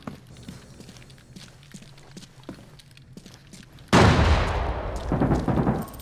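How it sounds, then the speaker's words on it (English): Grenades go off upstairs in Arena Breakout: Infinite: faint footstep-like thumps first, then a sudden loud explosive roar that lingers and rumbles for a couple of seconds. "Some fucking grenades going off upstairs."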